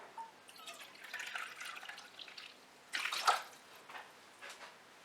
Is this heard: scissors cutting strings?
no